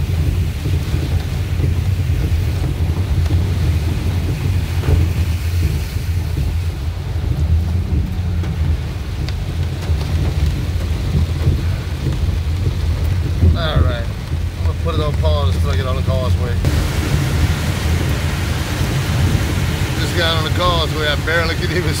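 Heavy rain during a drive, with spray kicked up by surrounding vehicles making a constant loud rushing wash, and a person talking over it.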